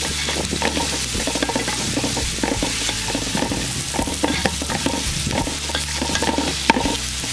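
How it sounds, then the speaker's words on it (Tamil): Onions sautéing with curry leaves and green chili for a crab curry, a dense crackling sizzle under rapid, rhythmic scraping strokes of a ladle in the pan, close and continuous. "வெங்காயம் நல்லா வதங்கிடுச்சு,"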